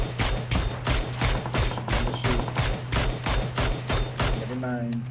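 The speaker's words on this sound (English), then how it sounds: "Pulling out my mini to shoot them" Mini14 rifle gunfire in the video game PUBG, a rapid steady series of about a dozen loud evenly spaced shots over a constant low engine hum, with faint voices underneath.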